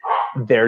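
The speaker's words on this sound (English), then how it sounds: "I'm sorry about my dogs." A dog gives a short, close bark-like yip, then a second voiced bark follows right after, in an indoor home setting during a talk.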